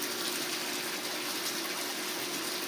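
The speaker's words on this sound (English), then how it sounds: "The water constantly runs in here with the same pump that's operating all the grow beds." Pumped water pours steadily into a fish tank fed by the same pump that supplies the grow beds, with fish from a 3,000-gallon pond below. It makes a constant close gushing splash without a break.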